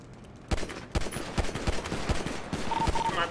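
Rapid bursts of video game gunfire during a multiplayer shooter round in a mansion, sharp repeated shots in quick clusters, loud and close throughout.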